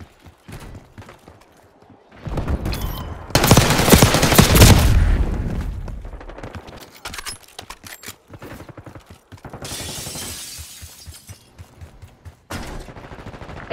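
Gunfire in the shooter game Black Ops 6, bursts of rapid automatic shots and heavy volleys coming in loud clusters with quieter gaps and clanking between them, no talk.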